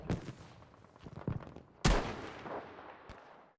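Gunfire in the video game Battlefield V: scattered sharp shots, then a loud close blast and a further report, with rumbling echo between.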